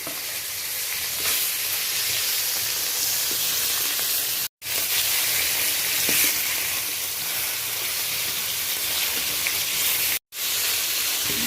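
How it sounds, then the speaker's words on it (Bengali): Phoili fish fries in hot oil with a steady, close crackling sizzle that continues throughout, broken only by two brief silent gaps. "মাছগুলো আস্তে আস্তে করে ভেজে নেওয়ার জন্য তুলে দিলাম"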